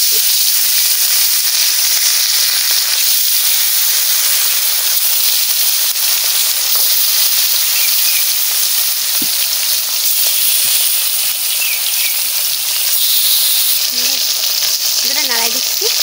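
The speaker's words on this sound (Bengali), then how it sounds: "তেল গরম হয়ে গেছে, মাছ ভাজা বসাই দিচ্ছি।" Large snakehead fish pieces fry in hot oil, a loud, dense, continuous sizzle and hiss held steadily throughout, with a faint voice-like murmur near the end.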